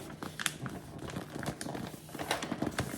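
Gift-wrapping paper crinkles and rustles continuously while being folded and straightened around a gift box, close and steady with sharp crackling peaks throughout.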